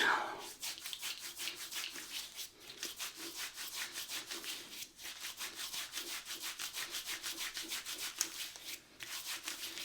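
Rapid, rhythmic brushing and rubbing close up, a steady back-and-forth scrubbing of shaving soap lather on a face with a shaving brush, with brief pauses between strokes.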